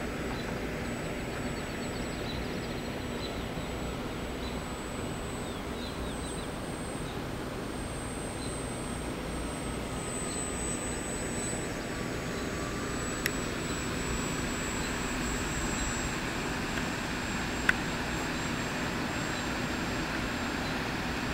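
A model Spitfire airplane making a flyby, its steady engine drone holding at a fairly even level throughout with a faint high whine above, with no voices.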